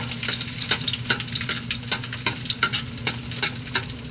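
Garlic sizzles in a pan with a continuous crackling hiss, punctuated by regular scraping knocks of a ladle stirring, near and with no talking.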